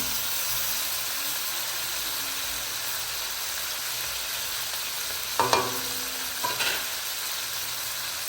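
Chilies go into paksiw na bangus with pork belly frying in a pan, giving a steady close sizzle with a couple of short clattering stirs near the end and no talking.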